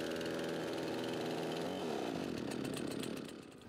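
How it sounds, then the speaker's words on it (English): A Craftsman 18-inch gas chainsaw idles steadily just after starting, its small two-stroke engine giving a continuous buzzing drone that softens slightly near the end, with no voices. "Now that I have it started, I'm going to let it sit here and idle for 10 minutes or so"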